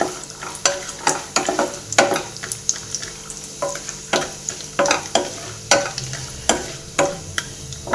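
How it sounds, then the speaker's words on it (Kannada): Cashews fry in ghee for a rava laddu sweet, a continuous sizzle broken by regular sharp scraping strokes of a spoon stirring the pan, close and fairly loud, with no voices. "ಈ ಟೈಮಲ್ಲಿ ಗೋಡಂಬಿ ಸೇರಿಸ್ಕೊತಾ ಇದ್ದೀನಿ ಅದನ್ನು ತುಪ್ಪದಲ್ಲಿ ಚೆನ್ನಾಗಿ ಫ್ರೈ ಆಗಿ"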